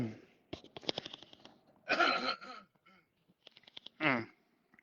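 A person clears their throat and gives short coughs in quick bursts, close and fairly quiet, with brief pauses between.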